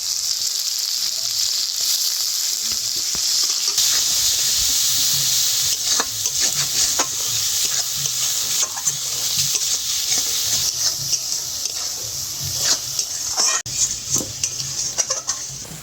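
Tomato paste sizzles loudly in a pan for a prawn and poppy-seed roast, a constant bright hiss broken by frequent scrapes and clinks of a spoon stirring against the metal.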